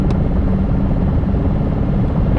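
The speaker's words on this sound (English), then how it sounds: "My car is making a pretty horrible noise right now." A car with a worsening mechanical fault gives off a continuous, rough, droning rumble, close and steady throughout with no talking.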